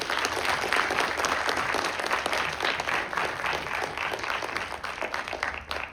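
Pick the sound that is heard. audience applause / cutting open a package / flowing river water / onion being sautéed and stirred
audience applause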